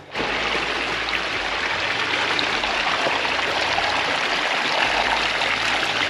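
Natural spring water stream flowing high on Mount Kilimanjaro at about 4,600 meters, a steady, close, full rush of running water that holds evenly throughout with no voices.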